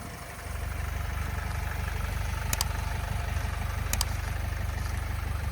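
A 2012 Opel Vivaro passenger van with a 2.0-litre 115 hp engine starts and settles into a steady, even idle, a low continuous hum with two brief faint clicks midway.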